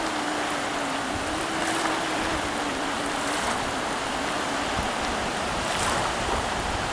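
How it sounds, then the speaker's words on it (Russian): Steady wash of light surf with wind rushing across the microphone on the Riga seashore, a continuous broadband roar with soft swells throughout and no voices. "Легкие волны, ветер."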